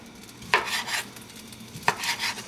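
Seafood boil ingredients hit a hot pot twice, each time with a sharp crackling burst that settles into a steady hiss and sizzle. The sound is close and moderately loud, with no talking.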